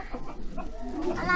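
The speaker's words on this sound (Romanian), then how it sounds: "Cântă cucurigu. Sunt niște cântăcioși." A farmyard rooster calls out in a short, close crow lasting just over a second, rising in pitch toward the end, on a cold winter day in a village yard with other poultry around.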